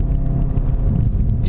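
The SEAT Leon Cupra 300 hot hatch's turbocharged engine drones loud and deep in third gear on a test circuit, with a steady low rumble heard from inside the cabin.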